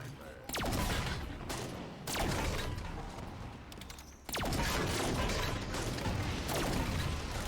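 A sniper rifle firing in a video game, three sharp loud cracks spaced a couple of seconds apart, each followed by a dense mechanical clatter and rattle.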